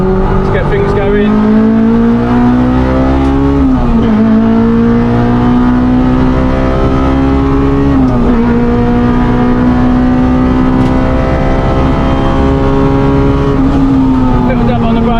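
A loud race car engine, a 245bhp K20 in a Renault Clio 197 Mk3 on track, holds a high, rising whine that climbs steadily in second gear, with brief dips at each gear change, droning continuously throughout.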